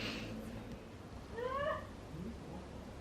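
A pet cat gives one drawn-out meow in the middle, fairly faint against a steady low background rumble in a home kitchen.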